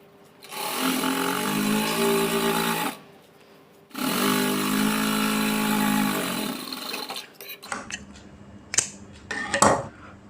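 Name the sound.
sewing machine stitching fabric with piping cord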